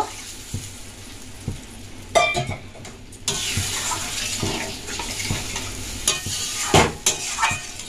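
Water poured into a pan of fried spice paste for a thin koi fish curry, giving a loud hissing sizzle with splashing bursts and stirring scrapes, flaring up in several surges, with no talk.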